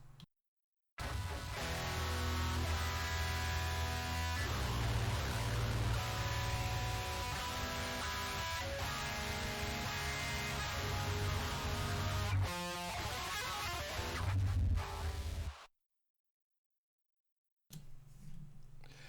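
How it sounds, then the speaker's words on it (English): Thin, fizzy distorted guitar through an amp modeler with no impulse response plays quietly, harsh and hissy with little low-end body, then cuts to silence before a short burst at the end. "without that impulse response, there's like no volume, no friggin' like, you know, body or good tone to it."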